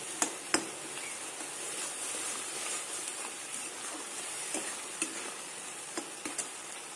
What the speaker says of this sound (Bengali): এটাকে দিয়ে দেবো আর একটু নাড়বো